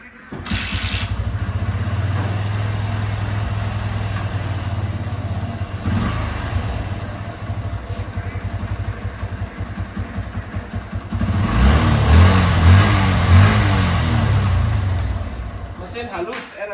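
A motorcycle engine runs steadily at idle with a low, even rumble, briefly revving louder near the end, with speech over it.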